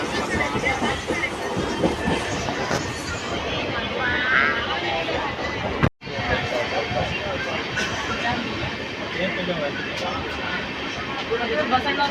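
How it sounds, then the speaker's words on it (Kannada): A train bound for Tiptur rumbles and clatters past close by, loud and continuous, with a brief sharp dropout midway and voices faintly underneath. "ಪಕ್ಕದಲ್ಲಿ ಟ್ರೈನ್ ಹೋಗ್ತಾ ಇತ್ತು."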